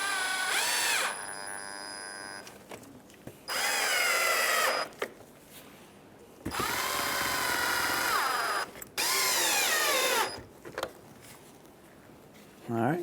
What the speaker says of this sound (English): you can go ahead and put your Phillips screws in